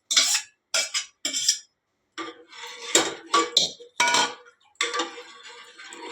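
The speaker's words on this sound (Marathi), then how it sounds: "ते पण छान असं हलवून घ्यायचं" Amti being stirred in a metal pot, a series of close clinking and scraping strokes of a utensil against the vessel in short irregular bursts separated by brief pauses.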